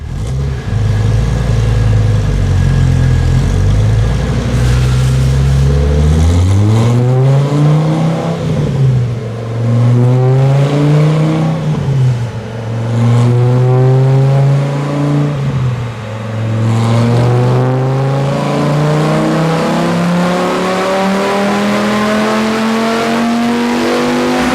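A Dodge Viper / Ram SRT10 V10 with a bolt-on throttle body roars loudly on a dyno, climbing through several hard revving pulls that rise in pitch, ease off and climb again, with no talking.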